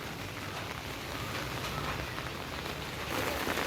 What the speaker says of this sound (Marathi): पाऊस आज काही थांबायचं नाव नाही घेत आहे संध्याकाळचे साडेसहा वाजले आणि सकाळपासून असा पाऊस पडतोय